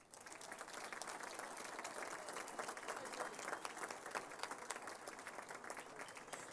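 Banquet audience at the Indiana Girls Basketball Hall of Fame award dinner gives a steady, fairly faint round of applause for officiating award honorees, dense clapping sustained without a break.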